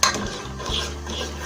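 A spoon stirs a pot of strawberry jam as it boils on a gas stove, giving soft scraping and clinking against the pan over a steady bubbling bed, close and moderately loud with no talk.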